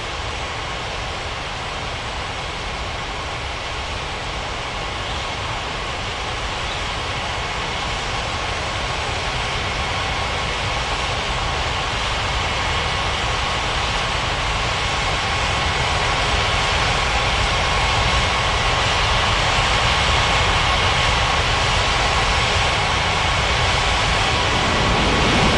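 Jet engines of an airliner taking off from Bali's Ngurah Rai airport, a broad loud roar that climbs gradually over the whole stretch, steady and alone without voices.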